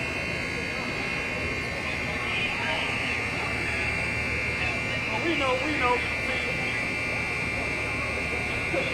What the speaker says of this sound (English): There's some kind of alarm from this parking shop.